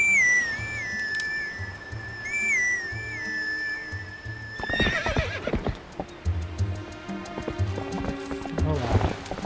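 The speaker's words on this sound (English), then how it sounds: "Actually, I think I am going to need the horse" In Zelda Twilight Princess HD, a horse whinnies over whistle-like game tones, then clip-clop hooves pound in a quick galloping rhythm, close and fairly loud, with game music and effects around them.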